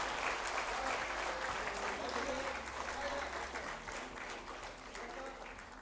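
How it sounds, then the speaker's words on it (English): Steady applause from an award ceremony audience fills the hall, dense and sustained throughout, with faint voices underneath and a low hum in the background. "A huge round of applause,"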